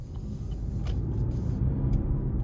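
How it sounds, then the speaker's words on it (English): A 2026 Chevy Trax 1RS with a turbocharged 3-cylinder engine driving on the road, heard from inside as a steady low engine and road rumble with faint brief ticks and rattles, no talking. "starting the test drive in this Trax 1RS, relatively good pickup for a turbocharged 3-cylinder"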